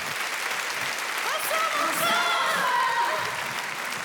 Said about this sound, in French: Je vous demande de faire un tonnerre d'applaudissements pour les coquettes.